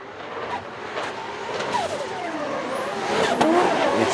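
A drift car's 2JZ engine revs hard at high revs and rises in pitch amid loud roaring noise, building louder toward the end, with tire and crowd noise mixed in, at a drift series event.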